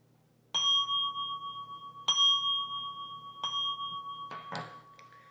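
A meditation bell is struck three times to close a session, each stroke blooming into a clear, sustained ringing tone that lingers and overlaps the next, followed by a brief soft clatter at the end.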